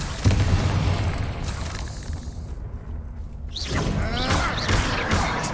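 A Bombarda spell blast in Hogwarts Legacy erupts as a loud, sustained booming roar that fades into a quieter lull before another burst of crackling, whooshing debris rises near the end.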